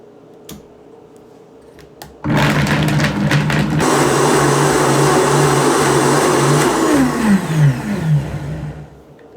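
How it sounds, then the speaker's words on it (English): A Vitamix blender mixes a single serving of dairy-free hot cocoa. After a few clicks the motor kicks in loud and close, then roars steadily at high speed, its pitch shifting as it runs. "We're going to get the Vitamix going, my favorite appliance of all time."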